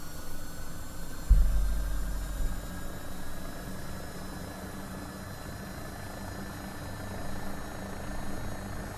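An AW-109 helicopter in X-Plane 12 spins its rotor up to flight RPM, a constant whining turbine drone with a low rotor throb, slightly louder early on and then holding steady.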